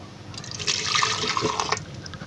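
Half a cup of milk poured into a jug for an almond energy drink, a short, steady liquid pour with soft splashing, fairly close and alone.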